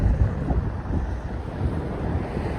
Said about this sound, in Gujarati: પવન જોરદાર ચડ્યો ગાઈસ.